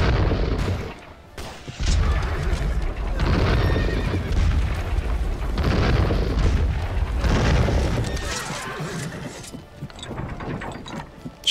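Cavalry horses neigh and whinny amid clattering hooves and mechanical ratcheting in the video game The Bluecoats: North & South, a busy battle din that thins out near the end.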